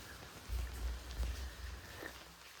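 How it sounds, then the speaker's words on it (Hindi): Steady rain falls at Bhimtal lake, a faint, even hiss with a soft low rumble underneath, continuous and alone with no voices. "बारिश रुकने का नाम नहीं नहीं ले रही है।"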